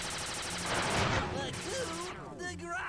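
Gunfire in the Sly 2: Band of Thieves video game, a quick burst of rapid shots heard against steady game music and effects, moderately loud and continuous through the short stretch.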